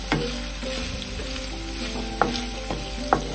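Vegetables frying in a pan with a little turmeric, giving a close, even sizzle punctuated by a few sharp clicks of a spatula against the pan.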